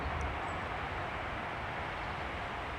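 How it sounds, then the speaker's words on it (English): Trains pass on the high-speed West Country rail line near a West London cemetery, heard as a continuous low, broadband rumble that holds steady throughout, distant and without talk. "we're quite close to the high-speed West Country rail line, so those will be trains passing."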